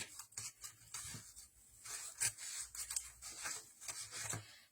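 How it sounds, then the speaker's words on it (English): Quiet snipping and rubbing of scissors working through tape, several short cuts and crinkles close by, with no voices. "I'm going to use my scissors to kind of clip this corner"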